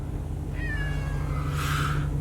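Cats meow over a steady low road drone inside a moving vehicle on a drive to Florida, two drawn-out meows, the second louder and closer.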